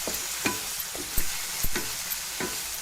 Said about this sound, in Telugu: మంచిగా ఫ్రై అవుతుంది మసాలా.